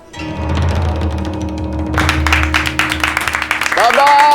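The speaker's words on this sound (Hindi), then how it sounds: "बस इतनी तालियां मत बजाइए" An audience claps and applauds loudly at a press gathering in a Hindi TV comedy, a dense burst of many hands that builds and carries on to the end, with a voice and a tonal sound rising near the close.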